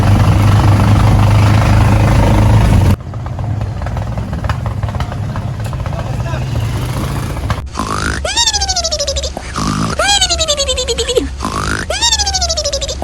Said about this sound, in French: La mélodie de son moteur là elle est hard